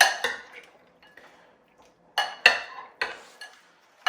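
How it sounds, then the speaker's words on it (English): A big spoon clinks and scrapes against a pan while seafood scampi with garlic is tossed, giving a few sharp, close metallic knocks separated by short quiet gaps. "I'm going to grab a nice big spoon and I'm just going to give it a toss."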